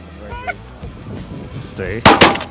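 Geese during a goose hunt give a few loud honks, followed closely by two sharp shotgun blasts nearby, over a short outdoor stretch.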